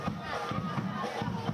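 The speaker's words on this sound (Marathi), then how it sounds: "युवा सेनेच्या वतीने हा जल्लोष आता साजरा केला जातोय" Crowd of Yuva Sena workers celebrating outside Matoshree, a steady dense hubbub of many voices with rhythmic bursts that rise and fall, heard from a short distance.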